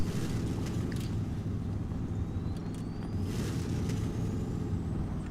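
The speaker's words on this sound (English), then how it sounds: "Yeah, the turbo whistle." Heavy truck in SnowRunner with a turbo whistle, a thin rising whine climbing over a loud rumbling engine as the truck drives on in a high gear, steady and close.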